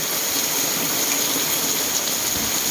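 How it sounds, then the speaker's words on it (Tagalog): Heavy typhoon rain during Typhoon Carina pours steadily and loudly, a dense continuous hiss and roar of water drumming on surfaces with no pauses and no voices. "napakalakas ng ulan"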